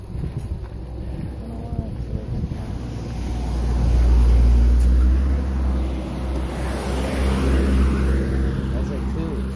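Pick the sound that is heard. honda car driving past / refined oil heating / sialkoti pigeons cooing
honda car driving past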